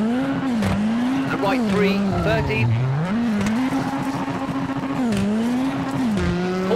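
A rally car in the WRC 7 video game runs a Tour de Corse stage on a flat tyre, its engine note loud and close, rising and falling through the corners while a co-driver calls pace notes over it.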